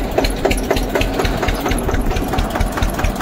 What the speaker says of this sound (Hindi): थर्ड गियर लगा दिया हमने ट्रैक्टर का, चलते हैं